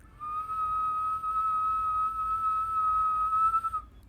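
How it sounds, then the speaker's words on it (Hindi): A low, clear whistle holds a single steady note for about three and a half seconds, faint and alone against a quiet background. "और अगले ही पल एक धीमी और स्पष्ट सीटी की आवाज़ सुनाई दी"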